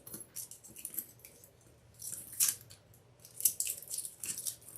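Scissors snipping plastic tags off fabric zipper pulls on a handmade Dopp kit toiletry bag, several short crisp cuts and rustles close by, with a louder snip near the end.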